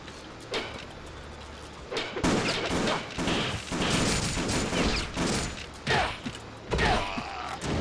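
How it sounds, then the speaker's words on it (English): Enemy guns in Ninja Gaiden Sigma fire bursts of muffled shots and clattering impacts, irregular and mid-distance, mixed with mechanical clanks over a low game ambience. "those guns are messing me up"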